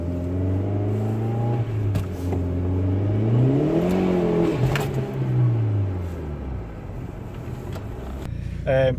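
Mitsubishi Evo 6 engine with a slipping clutch, revs climbing in a sweeping whine and dropping back as the clutch grips, close and loud with someone talking over it.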